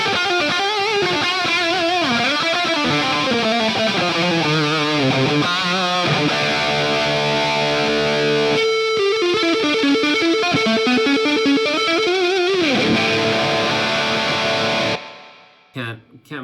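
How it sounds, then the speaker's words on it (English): An electric guitar plays a crunch tone through a NUX MG-30 with spring reverb, sounding as a continuous run of distorted notes and sustained chords that cuts off near the end. "I'm gonna throw on that spring reverb."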